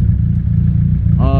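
A drift car engine cranks and catches right at the end after a low, steady hum, a short loud startup burst.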